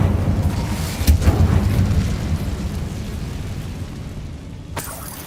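An Incendio fire spell in Hogwarts Legacy erupts in a loud whooshing burst with a brief sharp crack, trailing into a rumbling roar that fades, then ends in another short sharp pop.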